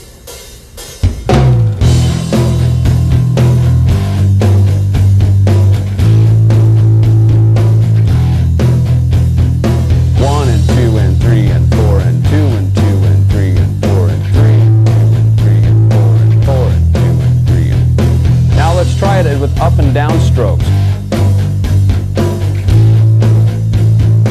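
Metal bass guitar plays steady driving eighth notes along with a full backing track, loud and continuous from start to finish, with no talking over it.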